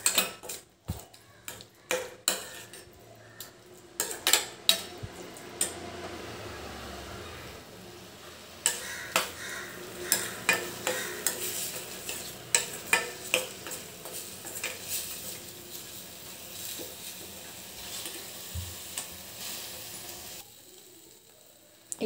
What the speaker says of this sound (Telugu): మ్యాంగో పచ్చడి ఇందులో వేసేసి ఇలా కలుపుకునేద్దాం.